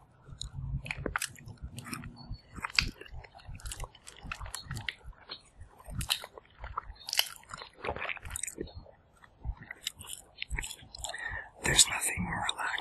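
Veggie burritos and rice chips are eaten outdoors, close up, in a steady run of crunchy bites, wet chewing and smacking. Soft whispering is heard between mouthfuls.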